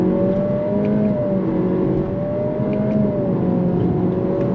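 A 2023 Acura Integra with a CVT pulls away from a stop under paddle-shifter control, its engine giving a steady, droning whine with sustained tones that stays level and fairly loud throughout, with no speech.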